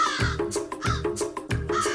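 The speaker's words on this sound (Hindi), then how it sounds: "तेरे चीख से कौवे उड़ गए।" Crows caw loudly and close in a rapid series of harsh calls, about three bursts each second, as the flock is startled into flight.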